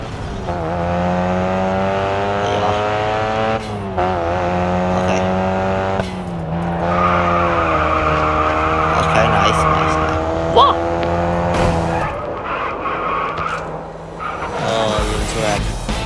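A car drifting in the Racing Master mobile racing game, its engine droning and shifting pitch while tires squeal through the slide, with a voice talking over it at times.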